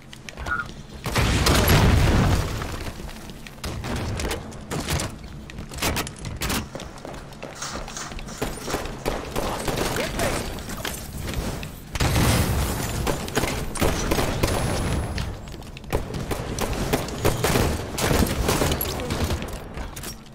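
Halo 5 gameplay battle with rocket launcher blasts and heavy booming impacts amid sustained gunfire, loud and dense throughout, with low thumps bursting around two and twelve seconds.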